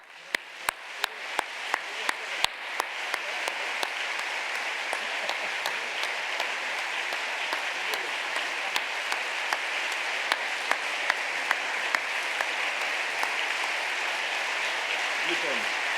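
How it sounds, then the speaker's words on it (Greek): Warm audience applause greets an honoree at an award presentation, a dense wash of many hands clapping steadily for the whole stretch, with a few sharp individual claps standing out near the start. "να την υποδεχτούμε με ένα θερμό χειροκρότημα"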